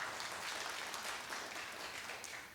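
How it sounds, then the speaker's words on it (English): Applause at a university livestream honoring a longtime faculty member and department chair, a steady faint wash of many hands clapping throughout, fairly distant and even, without speech. "let's give her a round of applause for that."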